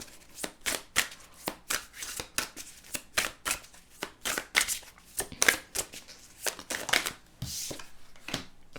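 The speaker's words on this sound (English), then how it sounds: "Let me get some more cards here." Tarot cards are shuffled by hand in quick, regular bursts of crisp riffling and slapping, repeating about every half second, close and fairly quiet, with no talking.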